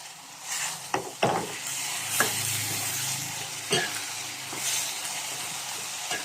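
Holy basil stir-fried with beef hump in a pan, a continuous hissing sizzle broken by a few sharp spatula knocks against the metal.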